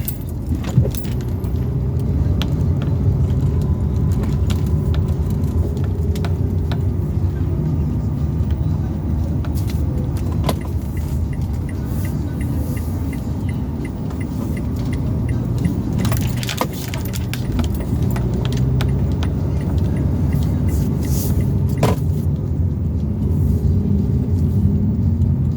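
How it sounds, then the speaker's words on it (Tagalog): Motorized tricycle engine running steadily throughout, a loud continuous low rumble with occasional rattling and clinking, and voices briefly heard over it. "Tricycle na to."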